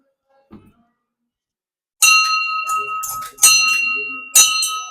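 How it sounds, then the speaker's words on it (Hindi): A metal temple bell rings out sharply three times, each strike leaving a bright, sustained ringing tone; a faint brief sound precedes it. "पहली मंदिर पहुंचे, पहली घंटी बजाते हैं भगवान ला"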